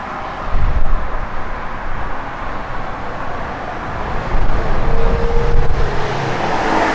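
A 1952 Chevrolet 3100 pickup truck with a Nova front subframe drives along the road, giving a steady close road and engine roar with slight swells in level.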